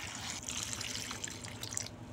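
Cut yardlong beans are rinsed in a vessel of water, a soft continuous splashing and trickling with small sloshes, faint and close, with no voices.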